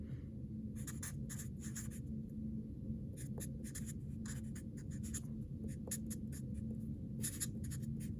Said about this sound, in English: I'm gonna write out my 5 days of operation again.